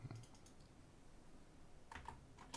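Faint, sparse keyboard taps at a computer, a few soft clicks at the start and a short cluster near the end over quiet room noise.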